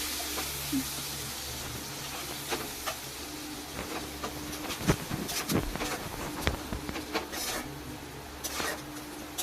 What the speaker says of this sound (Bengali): ওই কড়াইয়েই দিয়ে দিচ্ছি ঘি তারপরে দিয়ে দিচ্ছি পেঁয়াজ কুচি পেঁয়াজটা আমি ভালো করে ভেজে নিচ্ছি